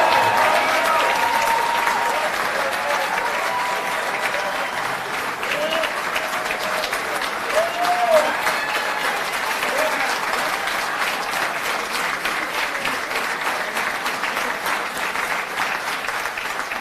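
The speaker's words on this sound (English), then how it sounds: "Let's have a well-deserved round of applause for your undefeated JV football team." Sustained applause from a banquet audience at a high school football banquet, broad and steady throughout, with scattered crowd murmur mixed in.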